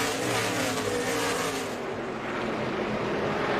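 NASCAR Xfinity Series race cars roar past at New Hampshire Motor Speedway in the closing laps of a 2018 race, a loud continuous engine wash that swells and fades slightly as the pack goes by.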